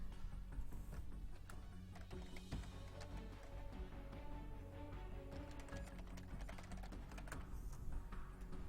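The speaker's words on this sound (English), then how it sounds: "Oh, you can see me typing in there." Someone types steadily on a computer keyboard nearby. The keys click in irregular quick runs with short pauses over a low background hum.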